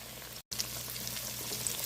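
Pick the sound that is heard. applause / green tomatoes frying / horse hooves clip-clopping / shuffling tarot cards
green tomatoes frying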